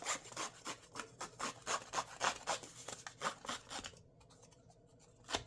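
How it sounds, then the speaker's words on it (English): A vintage edge distressor blade scrapes along the edge of cardstock in a steady run of rhythmic rasping strokes, close and fairly quiet, ending in a couple of softer final scrapes. "You put your cardstock in there and scrape it."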